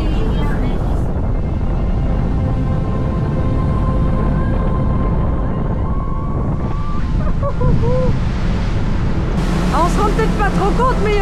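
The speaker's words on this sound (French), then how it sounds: "il y a vraiment beaucoup de vent" Strong wind buffets the open deck of the Aranui cruise ship in the Marquesas, a loud constant roar with low rumble that fills the whole stretch, with faint voices and other sounds underneath.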